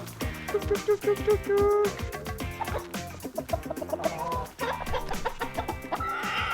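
A chicken at a permaculture market garden gives loud, close clucks mixed with talk and laughter, held by a person on their knee.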